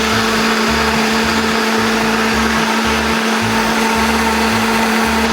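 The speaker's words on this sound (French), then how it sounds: "On referme, on vient broyer ça comme il faut." Blender grinding a seitan mixture with unsweetened soy milk, a steady high motor whine with churning, pulsing low thumps running loud and close throughout.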